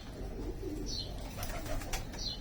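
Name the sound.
pigeons cooing, English tipplers and Iraqi pigeons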